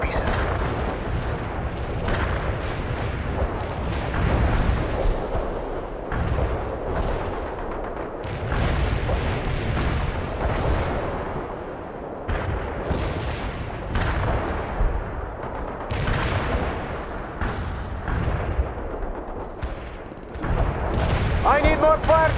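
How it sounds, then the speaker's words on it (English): Artillery strike explosions in the video game World in Conflict, a series of heavy booming blasts and rumbling impacts repeating every second or two, loud and continuous, with in-game radio voices talking between them. "Artillery strike successful."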